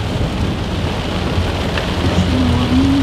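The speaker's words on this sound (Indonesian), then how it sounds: "Hujan deras lagi." Heavy rain pours in a steady dense roar, with low rumbling thunder rolling beneath it throughout, loud and close, no voices.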